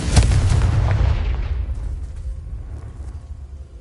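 Bombarda and Confringo explosion spells cast in the video game Hogwarts Legacy: a loud, heavy blast at the start with deep rumbling that slowly decays into a fading tail over several seconds, with no talking.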